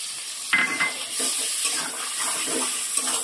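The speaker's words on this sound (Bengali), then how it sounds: "এবার এই যে চিংড়ি মাছটা আমি নুন হলুদ মাখিয়ে রেখেছিলাম সেটাকেও আমি এর মধ্যে দিয়ে দিলাম।" Shrimp coated in salt and turmeric drop into a hot pan, starting a steady hissing sizzle with a few soft clatters and stirring scrapes, close by.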